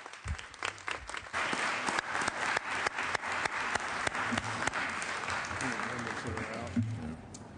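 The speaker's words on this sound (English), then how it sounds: "I'd ask you to give him a big round of applause, please." A legislative session on the Senate floor breaks into a loud, sustained round of applause from the chamber, with sharp individual claps standing out and faint talking mixed underneath.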